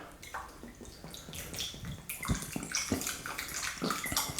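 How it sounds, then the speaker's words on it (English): White wine vinegar pours into a dish in a home kitchen, a steady splashing, gurgling liquid stream with small sloshes, close and fairly loud with no talk. "Now, I'm going to add the white wine vinegar."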